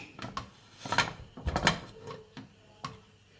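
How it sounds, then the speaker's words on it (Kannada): Metal pressure cooker lid being opened after cooking Chettinad chicken biryani, a few close clanks and scrapes with short clicking knocks, fairly quiet between hits. "ಕುಕ್ಕರ್ ಲಿಡ್ ಓಪನ್ ಮಾಡೋಣ"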